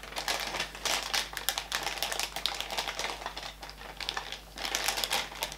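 A plastic bag holding potato-starch-based pink samples is handled and crinkled, giving a close, steady run of dense crackling rustles throughout.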